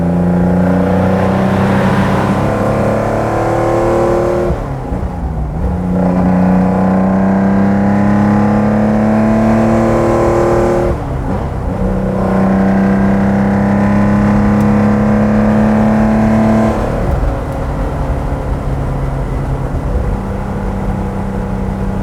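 A 1970 Porsche 914-6 GT flat-six engine pulls steadily in third gear, rising in pitch through long loud runs with brief dips at gear lifts, close and continuous with no talk over it.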